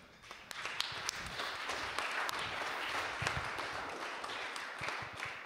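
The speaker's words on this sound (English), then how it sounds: "I'm going to applaud all the way till you get here." Faint, scattered applause from a small crowd at a developer conference panel, hands clapping irregularly at a distance for several seconds.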